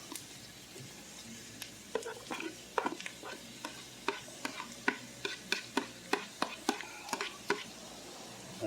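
Brussels sprouts and bacon sautéing in a stovetop pan, with a soft background sizzle broken by regular sharp scraping and stirring knocks, a steady rhythm of utensil strikes about every half second, close and moderately loud, no talking.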